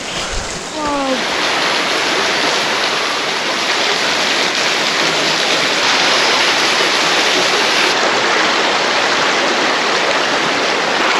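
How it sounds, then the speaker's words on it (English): Waterfall along the Grand Canyon walk, a steady, loud broadband roar of falling and rushing water that fills the whole stretch without pause, with brief voices near the start. "Check out that waterfall behind"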